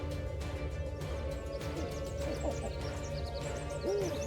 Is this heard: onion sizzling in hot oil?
no